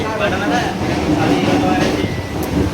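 Continuous rumbling rush of a train running along the track, loud and steady, with a voice talking over it.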